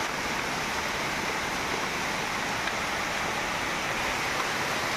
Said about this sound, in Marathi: चांगला पाऊस पडतोय आता